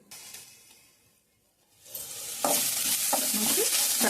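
Chili powder frying with onions and fish in a pan: near-silence, then a loud hissing sizzle bursts in with several stirring scrapes, close and with no talk.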